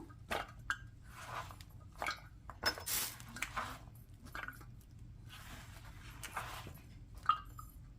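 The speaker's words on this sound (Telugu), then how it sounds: "ఈ బీరకాయ ముక్కలన్నిటినీ నేను ఒక గిన్నెలోకి ట్రాన్స్ఫర్ చేసుకుంటున్నాను" Thin-sliced ridge gourd pieces being moved into a bowl: quiet, scattered soft squishes and light clinks of utensil against dishware, with pauses between them.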